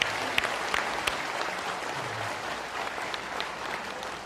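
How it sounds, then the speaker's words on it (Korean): An audience at a Vietnam War veterans' rally breaks into sustained applause, a dense wash of clapping with a few sharper claps standing out near the front. "이 두 분에게 박수 한번 좀 여러분 보내주시기 바랍니다"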